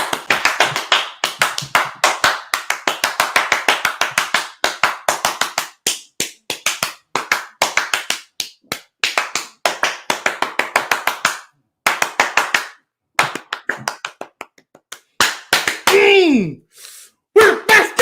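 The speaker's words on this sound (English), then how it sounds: "I got to roll up the sleeves for this one. Here come my clap." One person claps hands in a fast, sharp, close-up burst of slaps that keeps going with short pauses and then grows more ragged toward the end.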